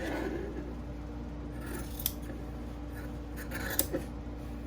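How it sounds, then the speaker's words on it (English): Scissors cutting darts out of fabric for a tote bag, quiet rubbing snips with a few sharp blade clicks over a faint steady hum. "Make sure you don't forget to cut out your darts."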